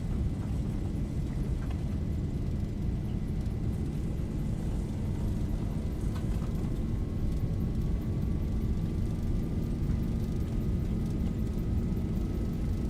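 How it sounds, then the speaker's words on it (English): Jet airliner engines at takeoff thrust in the Zibo mod flight simulator roar steadily, a dense, unbroken rumble with a faint rising whine held at constant loudness throughout. "Here we go. Takeoff thrust set."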